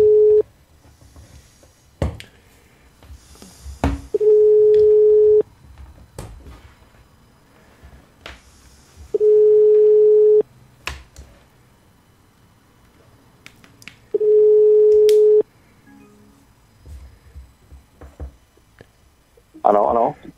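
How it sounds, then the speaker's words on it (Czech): Phone line tones sound in a call placed by telephone: a steady beep repeats in long even pulses several times, with scattered clicks and low noise between them, fairly loud and without talk. "Tak už to vytáčím po telefonu."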